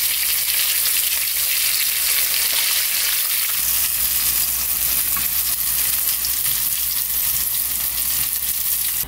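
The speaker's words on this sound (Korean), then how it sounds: "그리고는 요거를 기름에다가요 구워주시면 돼요." Tuna pieces dusted in potato starch fry in oil with a steady, close sizzle and crackle that holds evenly throughout, with no talking.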